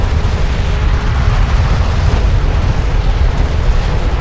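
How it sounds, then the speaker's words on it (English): A railgun fires and a blast erupts in the real-time strategy video game Homeworld: Deserts of Kharak, heard as a loud, dense, unbroken explosive roar with a deep rumble that stays up front the whole time. "Enemy railgun firing on friendly."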